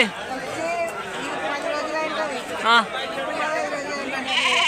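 Goats bleat at a busy livestock market in Yemmiganur, Kurnool district, where young rams are sold. A few short, wavering bleats, one clearer near the middle, rise over a steady murmur of crowd chatter and people talking.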